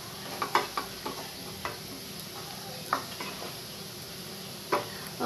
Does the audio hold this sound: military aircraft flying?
no